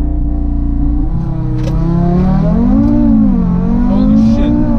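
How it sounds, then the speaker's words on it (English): Big-turbo Audi RS3 launching hard from a stop, its engine note climbing steadily through the revs with a loud, close, continuous pull and a slight dip between gears. "This is going to be the first launch in a big turbo RS3 car."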